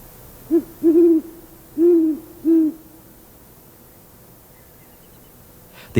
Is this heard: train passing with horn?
no